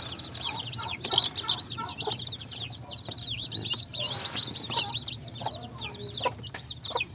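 Mother hen clucking and calling to her chicks after they were moved to a bigger coop, steady close clucks mixed with a busy stream of high peeping from the chicks.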